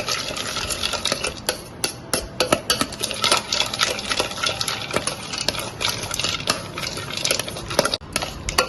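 A metal spoon stirs egg charmuri in a bowl with coconut oil, producing busy irregular clinks and scrapes against the dish, close and fairly loud with no talking.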